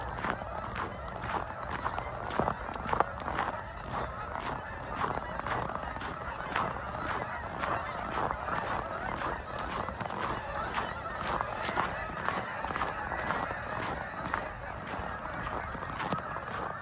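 Geese honking outdoors in the cold near a lit building, a dense, steady flock chorus of overlapping calls over continuous background noise.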